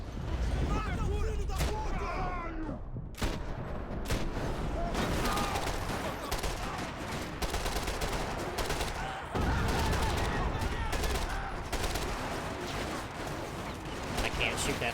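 Gunfire in the shooter game Max Payne 3, with dense, loud, continuous bursts of shots and rapid automatic fire rattling through the whole stretch, with a few brief breaks and voices mixed in.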